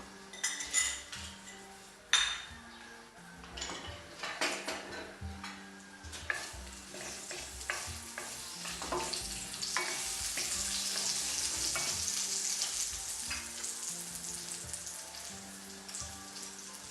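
A spoonful of tilani spice dropped into hot oil in a pot, first clinks and stirring scrapes, then a steady close sizzle and crackle building and holding to the end.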